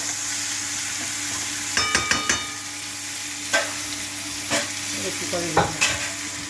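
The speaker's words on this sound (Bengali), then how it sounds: "ফুলকপি ফ্রাই চলছে" Cauliflower frying in a pan for a potato-cauliflower koi fish curry, a constant sizzle broken by several sharp scrapes and clinks of a spatula stirring against the metal.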